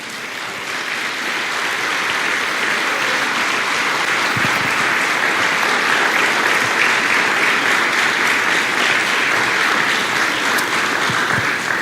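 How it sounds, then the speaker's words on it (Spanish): Loud, sustained applause from a church congregation, many hands clapping continuously as it swells in the first seconds and then holds steady. "Dale aplauso al Señor."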